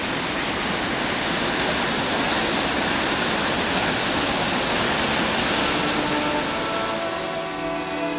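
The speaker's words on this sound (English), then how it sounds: "And there's the Horseshoe Falls, they're called." Horseshoe Falls at Niagara Falls pours out a steady, dense roar of falling water that holds level and unbroken throughout, with no voices over it.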